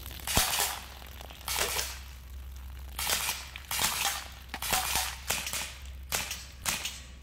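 A Sig Sauer MPX .177 CO2 pellet rifle fires 8.44 grain JSP pellets in a series of about seven sharp cracks at irregular intervals over a steady low hum, with no talking.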